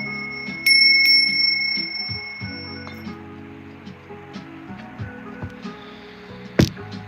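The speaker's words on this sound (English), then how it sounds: "We're gonna ring the bell." A small bell rings with bright, sustained metallic tones, first loud and clear, then decaying under scattered clinks and quieter strikes, with a final sharp ding near the end in an indoor live-stream setting.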